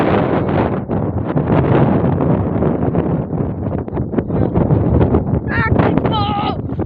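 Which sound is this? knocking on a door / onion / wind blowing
wind blowing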